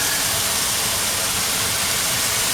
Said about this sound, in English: the fan's really loud